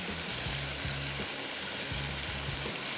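Milk being mixed into a hot cooking pan produces a steady, loud sizzling hiss, punctuated by rhythmic scraping stir strokes roughly once a second, with no voices.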